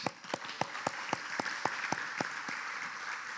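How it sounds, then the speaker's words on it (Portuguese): A congregation clapping in church during a worship service, a sharp, evenly spaced rhythmic beat of about a dozen claps in unison over a soft background. "Vamos aplaudir ao Senhor Jesus."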